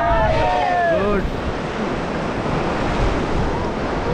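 Ganga river rapids at Rishikesh roar during a rafting run, a loud, continuous rush of churning water and wind with faint voices early on.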